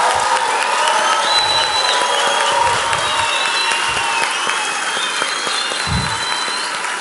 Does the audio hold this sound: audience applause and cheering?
yes